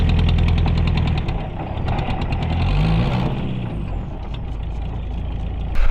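A car's air suspension bags fill and rise to pressure with a steady pneumatic hiss and compressor-like hum over a low engine idle, close and loud throughout.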